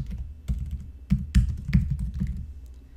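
Several soft, uneven keystrokes tapping on a computer keyboard, close and quiet, with short gaps between clusters of taps.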